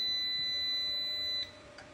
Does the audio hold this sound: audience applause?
no